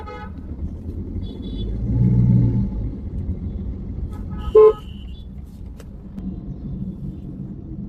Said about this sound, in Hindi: ट्रैफिक तो बहुत हो रहा है, देख के जाना पड़ेगा